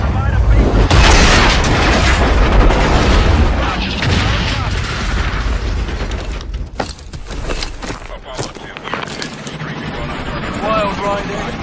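Spacecraft making a rough, hot landing with reverse thrusters firing in Call of Duty: Infinite Warfare: loud, sustained roaring rumble with heavy booms and blasts, then scattered explosive cracks and debris as the roar eases.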